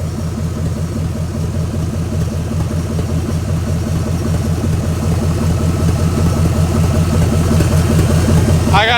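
A rebuilt 305 V8 converted to throttle-body injection idles in a 1991 Chevrolet C1500, a loud close steady throbbing rumble with an even pulsing beat and a slight misfire, running continuously without talk.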